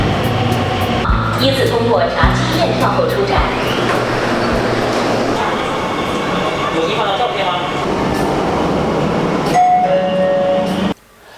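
A Shanghai metro train runs with a loud, continuous rumble and rail clatter, with squeals and tones of the carriage over it, then cuts off abruptly at the end; no one talks.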